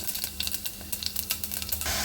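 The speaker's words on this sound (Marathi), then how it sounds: "ताडबुडाची कढई घेतली आहे आणि तेल तापलं आहे तर जिरे घालूया" Cumin seeds dropped into hot oil in a thick-bottomed kadhai, a loud, close crackling sizzle with rapid popping spatters over a steady hiss, no voices.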